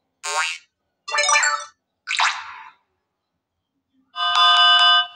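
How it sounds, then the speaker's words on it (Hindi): Several short electronic notification tones play one after another on a Lava phone with silent gaps, each a different chime, the last a longer bright ringing tone. "यहाँ से नोटिफिकेशन साउंड पे क्लिक करेंगे एंड प्ले करेंगे या चेक करेंगे"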